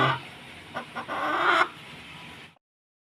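An Aseel rooster, a fighting-breed cock, gives a few short, close clucks over about two seconds, closing with one longer call before the sound cuts to silence.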